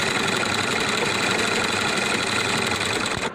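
A sewing machine stitches piping on a shirt's front placket, running at a fast, even rhythm with a steady mechanical whir and rapid needle ticking, close and continuous throughout.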